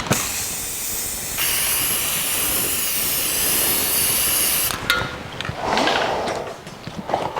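Paint sprays in long, steady hissing bursts onto the axle housings of a 1982 Jeep CJ7, close and loud, followed by shorter uneven spurts and handling noises.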